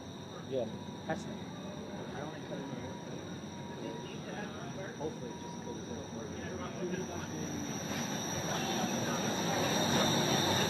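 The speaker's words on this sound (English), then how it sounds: "A new chapter in Toronto transit history has begun with the departure of the very first Eglinton Crosstown LRT with transit riders on board." The first Eglinton Crosstown LRT train in Toronto departs a station with riders aboard, a steady rolling rumble with faint wheel squeal that slowly grows louder, while people talk throughout.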